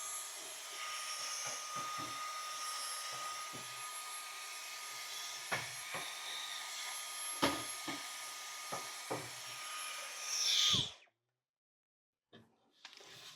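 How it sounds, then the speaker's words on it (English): A vacuum cleaner working over a greenhouse cabinet, a quiet steady whine with scattered knocks and bumps from the nozzle, swelling near the end before cutting off abruptly, followed by a few soft clicks. "vacuuming first."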